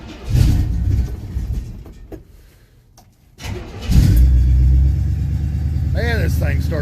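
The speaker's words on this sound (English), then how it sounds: "Man, this thing starts easy. It's running." A 1967 Chevy C10 engine cold-starts: the starter cranks, the engine stumbles, then catches and settles into a loud steady idle, with someone talking over it.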